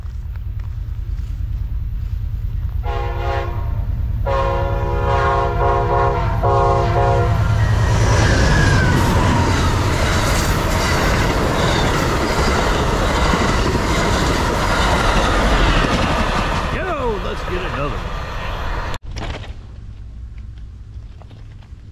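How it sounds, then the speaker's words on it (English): An Amtrak train passes on railway tracks, sounding loud repeated horn blasts early on, followed by a long, close rumble of wheels and clatter that stays loud before fading near the end. "All right, let's watch this train."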